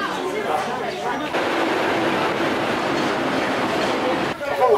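A small train in Qinghai, China rumbles steadily past with rolling rail noise, and people talk near the start and end.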